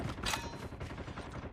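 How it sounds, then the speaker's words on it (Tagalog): Gunfire in the Call of Duty Mobile video game, a dense burst of rapid shots like a fusillade, loud and continuous through the short stretch with no talking. "Nagpuputukan na sila doon oh."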